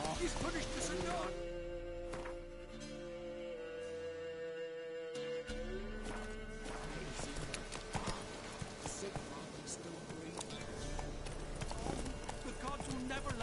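Roach, the horse in The Witcher 3: Wild Hunt, trots with steady, close clip-clop hooves, joined by a brief whinny. Game music and spoken dialogue run over the hoofbeats for the whole stretch.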